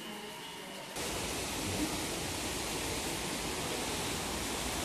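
A massage water jet pours like a waterfall at an outdoor pool, a steady, dense roaring rush that swells in abruptly after a second and then holds loud and constant, with faint voices beneath.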